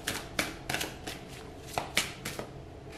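A tarot deck is shuffled by hand in a quick series of about eight soft, crisp riffles and taps, close and fairly quiet.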